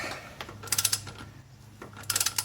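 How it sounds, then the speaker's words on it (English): A torque wrench with a short extension, set to 75 pounds, ratchets and clicks while tightening lug bolts on a John Deere 757 zero-turn mower; two quick bursts of close, sharp mechanical clicks stand over a low background hum. "torque these down, star pattern. Until it clicks."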